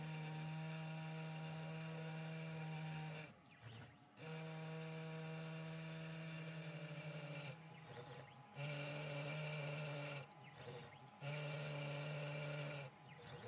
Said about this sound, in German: so funktioniert auch dieser Motor an 12 Volt Gleichspannung als Wagnerscher Hammer